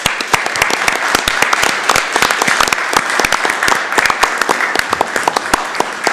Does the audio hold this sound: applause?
yes